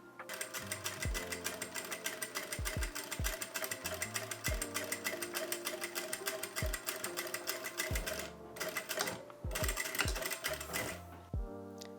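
Sewing machine running a seam 5 mm from a folded fabric edge on a front tie top, a steady fast whirring stitch with brief pauses and low thumps as the fabric is adjusted.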